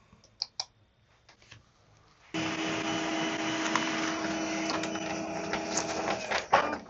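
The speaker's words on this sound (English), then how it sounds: "just click on print and let printer to do its job" A Samsung Xpress M2070W laser printer printing: a few clicks, then the mechanism starts abruptly and runs as a steady, loud mechanical whir with feed noises until the end.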